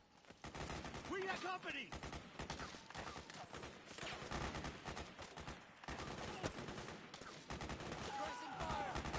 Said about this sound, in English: Careful! Suppressing fire!